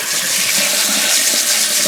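Tap water running into a kitchen sink while a microwave range-hood filter is scrubbed clean with soap; a steady, close hissing stream with faint splashing throughout.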